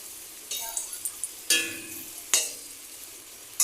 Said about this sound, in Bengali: তো এরকম করে সব পরোটাগুলো আমি ভেজে নেব।